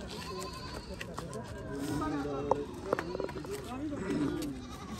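A goat bleats a few times at a busy livestock market where a black billy goat is being auctioned, the calls faint and brief beneath a man's loud continuous auction talk and crowd murmur.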